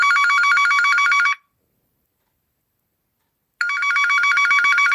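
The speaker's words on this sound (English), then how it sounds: "So why are they even ringing me?" A telephone rings loudly in repeated electronic bursts, about a second and a half of ringing, then a two-second gap, then ringing again. The sound is close and clear, with nothing else heard.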